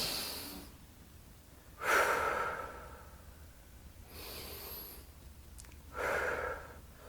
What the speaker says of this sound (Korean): 숨을 크게 들어 마셨다가 뱉었다가 우리 지금 한번 해볼까요? 다 같이 숨쉬기 운동